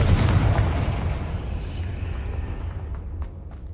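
Confringo spell explosion in the Hogwarts Legacy video game, a loud, booming blast at the start whose deep rumble decays steadily over a few seconds, with no talking.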